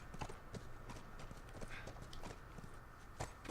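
Horse hooves clop in a quick, steady rhythm in The Last of Us video game, faint and low in level, with soft voices talking in the background.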